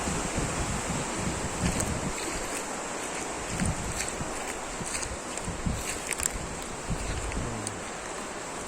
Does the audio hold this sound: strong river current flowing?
yes